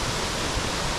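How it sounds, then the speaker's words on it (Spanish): A waterfall amid Brazilian vegetation gives off a broad, steady roar of rushing water, unchanging and fairly loud throughout. "Y acá nos encontramos con esta cascada."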